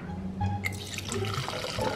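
Liquid pouring out in a quick splashing stream, close and moderately loud, with light trickles and drips following the main pour, no speech heard.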